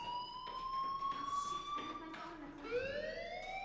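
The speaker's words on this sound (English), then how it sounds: "Hey, do you hear that fire alarm?" A fire alarm rings in the video game Life is Strange as a steady, rising electronic wail in the background, with a new tone coming in near the end, under low ambient noise.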